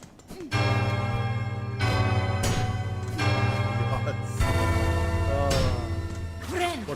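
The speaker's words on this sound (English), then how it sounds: "Ringing that great clanging bell just now." A great bell in Hollow Knight: Silksong clangs several times in a row, each strike ringing out with long, rich resonant tones that overlap and decay, while a person talks over parts of it.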